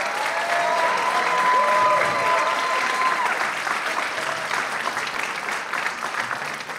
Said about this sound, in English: if you give him a round of applause as he comes down